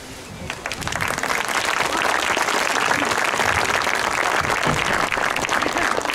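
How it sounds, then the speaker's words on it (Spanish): Loud, sustained applause from a crowd gathered in a plaza to celebrate the installation of a giant chess set, dense and even throughout without pause. "con este aplauso muy fuerte, celebramos la presentación de este juego de ajedrez"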